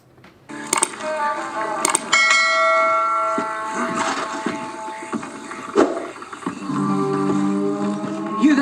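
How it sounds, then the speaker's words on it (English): Red Dead Redemption 2 game audio playing through TV speakers: ringing bell-like tones and metallic clinks over a steady ambient bed, with some brief voice-like sounds mixed in. "this will just have a bit of action from this from Red Dead Redemption 2"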